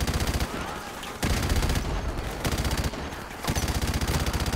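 Rapid automatic gunfire in Call of Duty Modern Warfare video game rattles in dense, loud bursts separated by brief lulls, close and sustained, with voices faintly mixed in.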